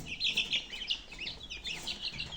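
Goslings and chicks in a village yard give off a steady stream of high, quick peeps and soft clucks, fairly quiet and overlapping throughout.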